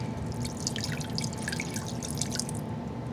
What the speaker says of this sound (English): you could either pour a half a cup or 1 cup of water. So I'm just going to pour it